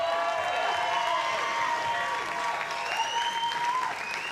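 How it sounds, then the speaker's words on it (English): A pageant crowd applauds steadily and loudly throughout, with a few whoops and whistles rising above the dense clapping. "Give yourself a round of applause."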